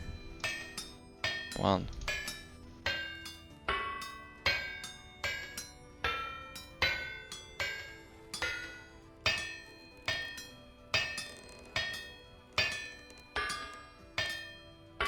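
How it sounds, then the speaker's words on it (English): A smithing hammer strikes metal on an anvil in the Vintage Story video game, with bright ringing clinks repeating at a steady rhythm of about one per second, each decaying quickly; a single spoken word breaks in briefly. "Our hammer barely made it. And I am sick and tired of this sound."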